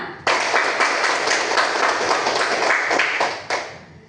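A classroom of students breaks into applause on cue, a brisk burst of many hands clapping close by for about three seconds before stopping abruptly, then a brief final flurry.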